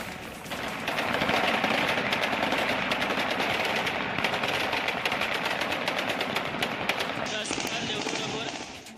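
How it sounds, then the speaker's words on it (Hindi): Sustained rapid bursts of automatic gunfire from Taliban fighters shooting rifles into the air in Kabul, dense and continuous for several seconds, with shouting voices mixed in. "इन तस्वीरों में फायरिंग की आवाज साफ सुनी जा सकती है।"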